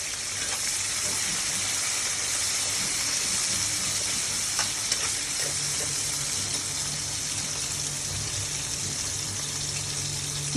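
Onions fry in hot oil on a stovetop with a steady, moderate sizzle that runs on without a break. Occasional soft clicks and stirring noises sit on top, and no one talks.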